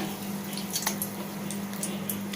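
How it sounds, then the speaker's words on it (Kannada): Batter-dipped capsicum slices for bajji go into hot frying oil over a low flame, giving a steady close sizzle with a few small pops and light clinks of utensils, no talking. "ಈ ರೀತಿ ಡಿಪ್ ಮಾಡಿ ಎಣ್ಣೆಯಲ್ಲಿ ಹಾಕೋಬೇಕು"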